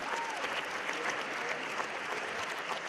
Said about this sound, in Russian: потом зал взорвался аплодисментами